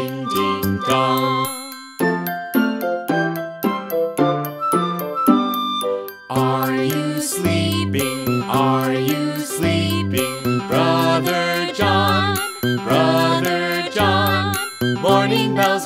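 Bright tinkling bell tones ring out in a quick, steady pattern over warm sustained harmonies, loud and continuous with no voices.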